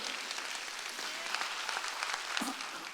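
A church congregation clapping during a Sunday worship service, a dense, even wash of applause heard at a distance and fairly quiet, with a faint voice briefly surfacing.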